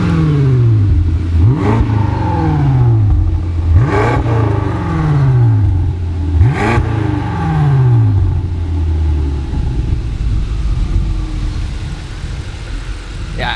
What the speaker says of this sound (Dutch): het nieuwe Akrapovic uitlaatsysteem op de allernieuwste BMW M5